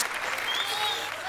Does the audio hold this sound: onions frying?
no